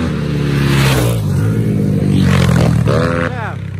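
Kovi Pro 300 and GNS 300 motorcycles race with loud, close engine roar and rising revs, the pitch sweeping up and down through gear changes over nearly four seconds.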